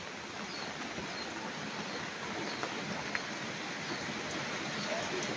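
Heavy storm rain pours down steadily as a dense, continuous roaring hiss that stays loud and even throughout, with no pauses.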